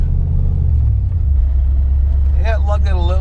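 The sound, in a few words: Jeep manual transmission engine lugging after shifting from 2nd to 4th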